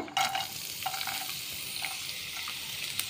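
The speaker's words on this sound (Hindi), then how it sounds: "आतां पॅनां तेल घालता आनी लसूण बारीक कातोलो ती घालता" Finely chopped garlic sizzles softly in hot oil in a pan on a gas stove for a Goan sweet and sour prawn dish, a quiet steady fry with a few light spatula taps.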